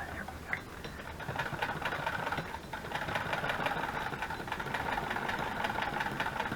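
A sewing machine stitches a fabric autumn leaf journal cover at high speed, making a fast, steady mechanical chatter, close and continuous, with no talking.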